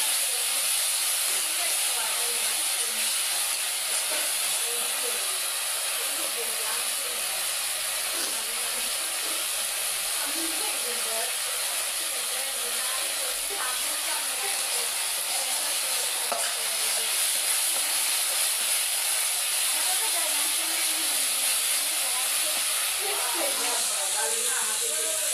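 Spice masala for egg curry being sautéed in a pan, giving a continuous hissing sizzle that persists throughout, with faint voices talking in the background.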